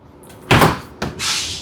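A hotel suite mini bar fridge door is pulled open with a soft thump and rustle, then a second knock, followed by a steady low hiss, up close.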